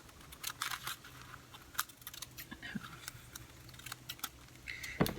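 Scissors cut through a glossine paper bag in a series of quiet, crisp snips and paper crinkles, close by, at an uneven pace.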